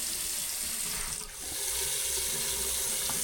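Hot water runs steadily from a tap into a sink, a continuous broadband rush that dips briefly partway through, then resumes at full strength.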